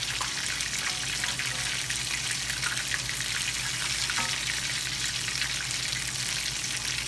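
Tempura-battered cod frying in hot oil gives a dense, steady sizzle and crackle, close and loud throughout, with no voices over it.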